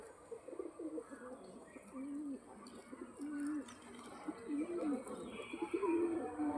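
A male pigeon coos repeatedly in a low, rolling rhythm at close range, among other birds' calls and chirps, with someone speaking intermittently over it.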